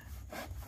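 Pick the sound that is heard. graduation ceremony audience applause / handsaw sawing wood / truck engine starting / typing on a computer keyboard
handsaw sawing wood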